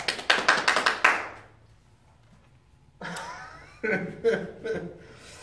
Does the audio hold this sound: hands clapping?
yes